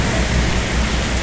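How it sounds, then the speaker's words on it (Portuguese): Heavy rain falls during a bicycle trip, a dense, loud, continuous hiss of downpour with no pauses and no voices. "Muita chuva."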